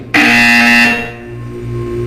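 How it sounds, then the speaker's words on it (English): A loud harsh electronic buzzer from the video game Portal 2 blares abruptly, holding a steady tone for under a second before fading into a lower lingering hum, with no talking. "You will hear a buzzer."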